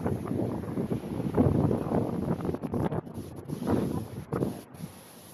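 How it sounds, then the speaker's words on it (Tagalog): Strong wind buffets the microphone on an outdoor seaside stroll, a loud gusting rumble that rises and falls over a few seconds, with faint rustling underneath. "Grabe ka windy."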